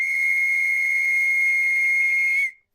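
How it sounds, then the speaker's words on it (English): A single sustained whistle, compared to a well-tuned steam boiler, holds one clean, loud, steady pitch for about two and a half seconds and then stops abruptly. "See, even improves your natural whistle. Makes you sound like a well-tuned steam boiler."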